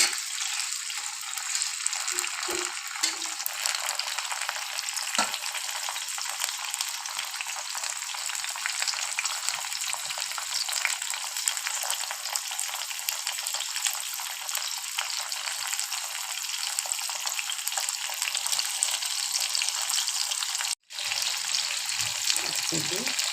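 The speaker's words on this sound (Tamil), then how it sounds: "தக்காளி சேர்த்துக்கலாம். அது லேசாக வதங்கட்டும்." Tomatoes and spices sautéing in a pan for a South Indian thuvayal, a steady close sizzle and crackle with occasional stirring clatter and a brief break near the end.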